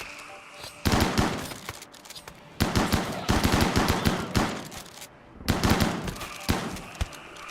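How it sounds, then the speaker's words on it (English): Gunfire from the RimWorld video game, rapid bursts of automatic shots in three or four volleys separated by brief pauses, loud and sharp against a quiet game background. "They hear the gunshots?"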